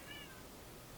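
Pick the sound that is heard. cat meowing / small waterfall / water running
cat meowing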